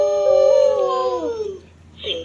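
A wolf gives one long, loud howl that slides slowly downward and fades, followed by a brief voice.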